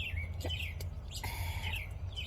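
A small bird chirps in short, bright tweets, a few quick calls spaced over a couple of seconds, fairly close and clear over a low background hum.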